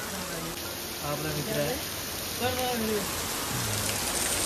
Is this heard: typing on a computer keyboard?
no